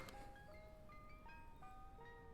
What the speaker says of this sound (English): And you can hear the ice cream truck.